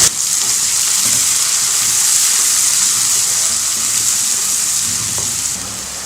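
Onions sizzling steadily in hot oil in a pan with curry leaves, a loud, continuous bright hiss of frying that holds even for about six seconds and eases slightly at the end.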